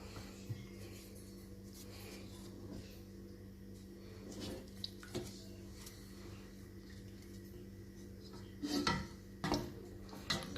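Ingredients being mixed in a bowl for gueddid, the Moroccan dried meat, with soft scraping and occasional clinks of utensil against the bowl, quiet and close, a few sharper knocks near the end.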